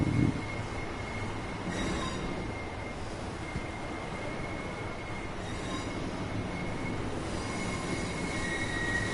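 A train in the Train Sim World video game rumbles steadily with wheel and rail noise, brief squealing tones rising over the continuous running sound, with no talk.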